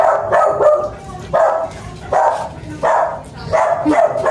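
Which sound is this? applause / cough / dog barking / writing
dog barking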